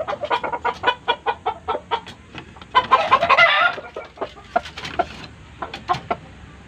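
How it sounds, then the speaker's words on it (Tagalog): Gamecocks kept for cockfighting cluck nearby in quick, busy bursts, several birds overlapping, with a brief louder squawk mid-way and no speech over them. "Dito yung mga manok. Mga alaga kong pansabong."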